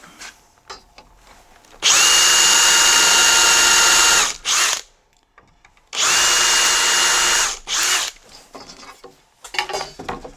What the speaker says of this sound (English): Bosch self-centering drill bit.